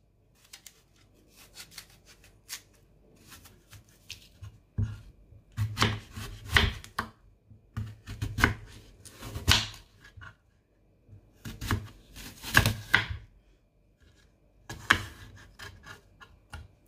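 Knife chopping through a green juice ingredient on a cutting board, a string of scattered sharp cuts and taps, close and moderately loud with quiet gaps between them.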